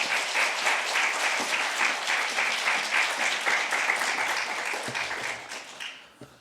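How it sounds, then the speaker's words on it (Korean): A church congregation applauds to welcome a visiting pastor at an evening worship service, a dense, steady wash of clapping that carries evenly for about five seconds and then tapers off toward the end. "큰 박수로 환영하겠습니다"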